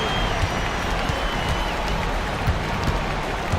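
Virtual arena crowd in an eBasketball video game, a continuous roar of cheering and clapping at moderate level with faint talk underneath.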